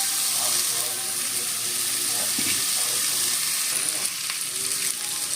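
Ash gourd tipped into a pan of hot oil alongside fried lentil dumplings, giving a steady close sizzle with occasional stirring clatter and a faint water-like hiss throughout.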